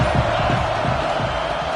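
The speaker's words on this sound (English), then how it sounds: "This crowd bringing the energy and noise early" Stadium crowd in a college football video game featuring Alabama roars steadily and loudly throughout, a dense continuous wash of noise with no breaks.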